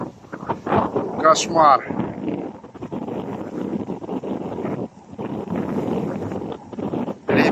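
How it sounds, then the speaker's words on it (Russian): Strong wind blowing outdoors by a tent beside a lake, a steady rushing roar with gusty buffeting against the microphone, heard under a voice speaking briefly. "Сегодня ветер."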